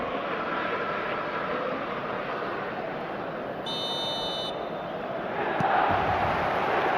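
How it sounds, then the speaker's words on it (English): Stadium crowd noise in an eFootball match, a broad steady roar of fans filling the background with a brief buzzer-like tone midway and a slight swell at the end. "There's nothing quite like match day, especially here. This crowd doesn't do ordinary"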